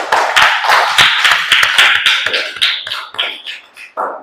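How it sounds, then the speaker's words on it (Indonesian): Classroom applause for a student group, a burst of many hands clapping close and lively, thinning and fading over about four seconds. "Tepuk tangan untuk kelompok 2."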